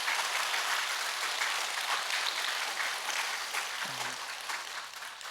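A church congregation at an early-morning service claps for its elders in a sustained, even round of applause that fades slightly toward the end, with a brief voice near the close.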